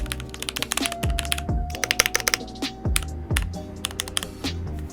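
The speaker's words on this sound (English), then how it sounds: "I want you to take a listen to what the typing sounds like" A Keychron K8 mechanical keyboard is typed on up close, producing a fast, uneven stream of crisp, deep key clacks with occasional heavier thumps from larger keys, loud and alone.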